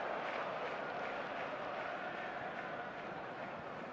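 A distant stadium crowd in eFootball 2025 murmurs and roars in a continuous, even wash, low in level and unbroken throughout.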